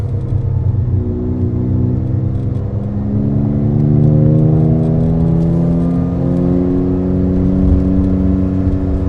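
Loud, steady Rossion Q1 sports car engine running with rising and falling revs, a smooth mid-pitched drone close by.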